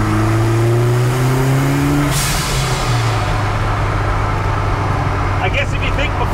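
A 300hp ZCars Hillman Imp with a 16-valve turbocharged engine revs loudly up close, its droning pitch easing down, with a voice talking over it.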